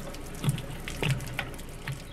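Water flushes out of an RV water heater tank, pushing out corrosion in irregular splashing gushes with a few louder bursts over a steady trickle.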